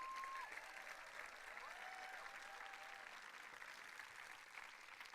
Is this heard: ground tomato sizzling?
no